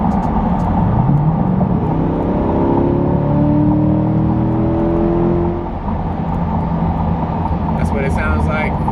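A C8 Corvette fitted with a Corsa Extreme exhaust cruises at 60 mph, giving a loud, steady droning engine and exhaust rumble with road noise throughout, and a voice speaking under it.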